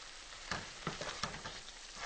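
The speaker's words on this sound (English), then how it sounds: "Give this a little stir" A spoon stirs a sauce with fresh basil in a hot pan, making a soft, faint sizzle broken by a few scraping swishes over about two seconds.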